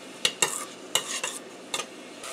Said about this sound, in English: So I'm going to add this onion in this. And saute onion.